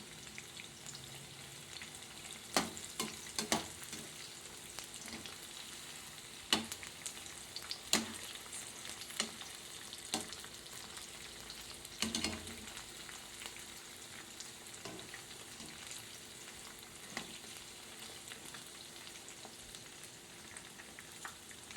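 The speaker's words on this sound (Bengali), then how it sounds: "ভালো করে আমি এগুলোকে ভেজে নেবো" Bite-sized chicken pieces sizzle steadily in oil over low gas while being cooked for chili chicken, with a constant soft crackle and sharper spatters or stirring clicks scattered throughout, heard up close with no talk.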